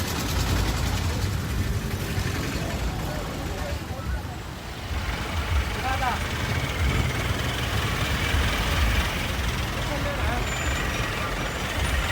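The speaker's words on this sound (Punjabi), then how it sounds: "ਟਰੈਕਟਰ ਆ ਰਿਹਾ ਉਧਰ ਸਾਡੀ ਗੱਡੀ ਖੜਾਈ ਹੋਈ ਆ" A tractor's heavy engine rumbles close by, steady and loud, as it moves past amid outdoor background noise near a parking area in Fatehgarh Sahib, Punjab.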